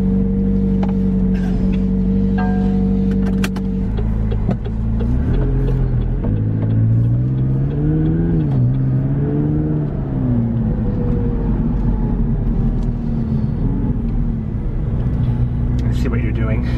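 A Pacific Blue McLaren 570GT fires up and settles into a steady, loud engine drone, with rising and falling revs in the middle and a voice speaking over the running engine throughout.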